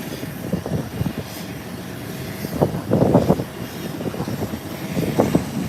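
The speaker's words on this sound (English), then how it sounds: "here is the ATR 72 rolling down the runway" ATR 72 turboprop airliner rolling down the runway at Howard Hamilton International Airport, its engine roar and propeller drone building steadily from a distance in continuous, broadband rumble with rising surges.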